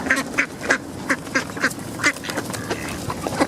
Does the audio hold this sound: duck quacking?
yes